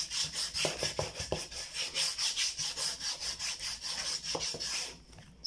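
A sandal surface being roughened against a wooden plank makes steady, rhythmic rasping strokes, about a dozen close scrapes in a quick back-and-forth pattern that fades near the end, with no talking.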